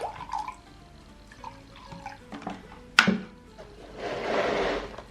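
Vinegar is poured and measured out for a bucket of about 7 litres of floor-cleaning water, giving close liquid trickling and dripping with a few clinks of containers and a steady pouring splash near the end.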